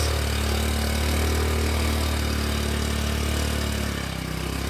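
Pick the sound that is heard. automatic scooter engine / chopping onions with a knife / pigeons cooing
automatic scooter engine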